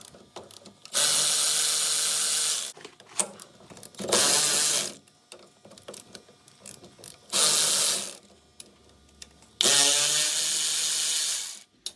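Ratchet wrench undoing 12 mm ball joint bolts on a second-generation Mitsubishi Pajero (Montero), in four loud, rapid clicking bursts separated by short quiet gaps, with no talk.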